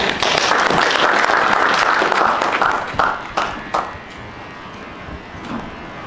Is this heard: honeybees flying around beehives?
no